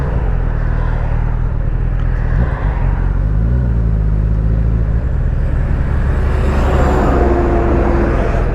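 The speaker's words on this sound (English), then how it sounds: "That's a big truck." A big truck rumbles past close by, a loud steady low engine roar that swells slightly toward the end with no talking over it.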